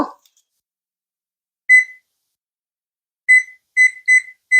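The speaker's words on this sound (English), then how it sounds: "I'm actually going to set my timer for 4 minutes" A kitchen timer being set, sounding one sharp electronic beep, then four more quick beeps in close succession after a pause, loud and alone in a quiet room.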